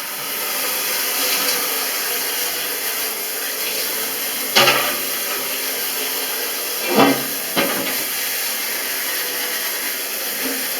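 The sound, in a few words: water spraying on oven glass part with vinegar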